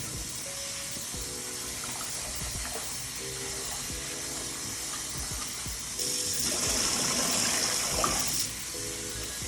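Running water pours over sea moss during rinsing. It makes a steady, close splashing and gushing that swells louder for a couple of seconds, with no one speaking.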